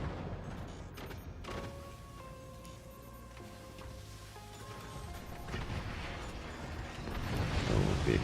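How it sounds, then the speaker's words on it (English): Mortar fire from the Forts RTS game, a continuous dense rumble of booms and crashing impacts with tonal in-game sounds, growing louder toward the end. "Those are mortars."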